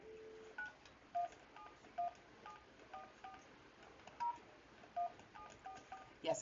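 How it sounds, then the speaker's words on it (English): Tones from a telephone keypad ring out one by one as a number is dialed in an insurance telesales office, about eight or nine beeps at irregular intervals, close and fairly quiet, with no speech. "I'm dialing them twice"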